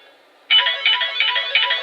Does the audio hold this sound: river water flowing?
no